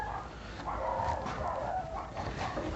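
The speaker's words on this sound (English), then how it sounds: "And my dogs are going crazy like always." Dogs barking excitedly in the background of an outdoor workspace where a Stihl BR350 backpack blower is being repaired, a steady run of overlapping yips and barks at moderate distance with no speech.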